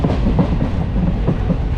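A passenger train rolls slowly along the Nilambur–Shoranur line in Kerala, its wheels giving a steady, unhurried clickety-clack over rail joints with a continuous low rumble, heard from on board with no voices.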